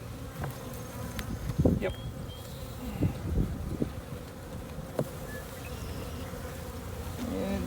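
Honey bees buzzing around beehives outdoors, a continuous droning hum with individual bees passing close, and a brief word from someone plus a few handling knocks.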